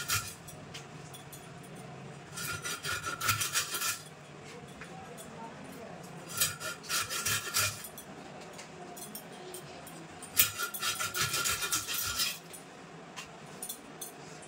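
A fish being cut into pieces with a knife in a home kitchen, with repeated bursts of sharp, bright scraping and clinking in separate clusters over a steady low background.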